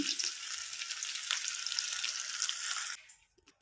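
Onion pakodi batter fries in hot oil, a dense close sizzle and crackle that holds steady for about three seconds, then fades to faint spatters.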